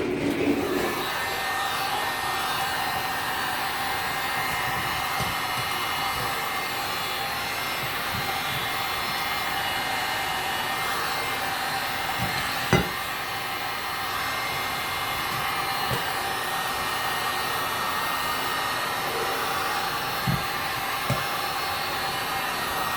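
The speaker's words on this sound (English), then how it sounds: "I usually like to use a heat gun on both sides." A heat gun blows on a resin dish with a steady, close, continuous whooshing roar, loud and unbroken with a small knock partway through and no talking.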